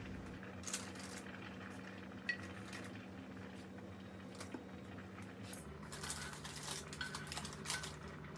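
Dishes and cutlery clink and scrape while plates of oven-baked chicken drumsticks with rice and mushroom sauce are set out in a home kitchen. Scattered light clinks and taps run throughout over a low steady hum, and they grow busier toward the end.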